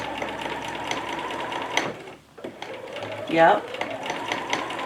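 Sewing machine stitching a small fabric basket, its rapid mechanical chatter running in bursts with a short pause midway, close and clear, while a person briefly speaks over it.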